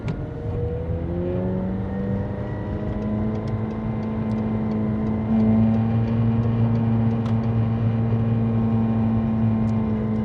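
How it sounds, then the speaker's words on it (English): Loud, steady engine drone with a deep exhaust note from a supercar with an upgraded exhaust, rising slightly in pitch and volume midway, heard from inside the car with no talking. "I've upgraded the exhaust, so it sounds a bit loud."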